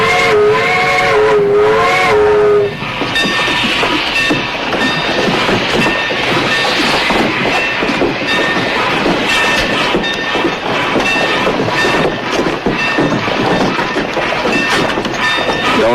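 A steam train near Fargo sounds a loud whistle for a couple of seconds, then rolls on with a steady rhythmic clatter of wheels and cars, close and continuous.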